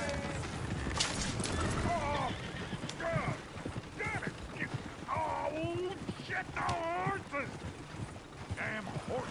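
Horse hooves clip-clopping near a stagecoach, with a horse whinnying now and then, under busy overlapping talk and other background commotion throughout.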